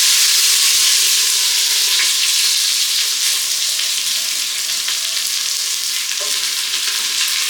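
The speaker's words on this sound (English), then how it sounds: "now I'm going to put the onions in" Two whole red onions frying in a pan with garlic that has browned nearly black, giving a loud, steady sizzle that runs unbroken the whole way with no voices.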